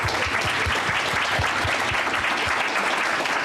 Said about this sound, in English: Can we have a round of applause for folks?